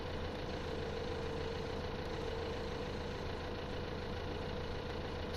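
A tractor engine idling in the Farming Simulator 15 video game, a steady low, even rumble with a faint constant hum and no change in pace across the whole stretch.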